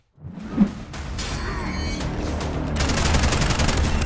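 Gunfire from a mobile first-person shooter game: a sharp shot near the start, then rapid bursts and steady automatic fire trading back and forth, close and loud, with whooshing effects mixed in.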